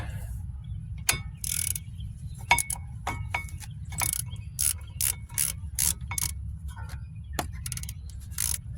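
A hand ratchet tightens front brake bolts on a 2015 Chrysler 200, with rapid bursts of metallic clicks in irregular strokes, close and fairly quiet against a low background hum.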